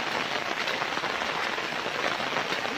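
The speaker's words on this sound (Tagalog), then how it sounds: "Dahil lakas ng ulan." Heavy rain pouring on a muddy, steep trail during a typhoon, a dense continuous hiss and patter of drops, loud and unbroken throughout.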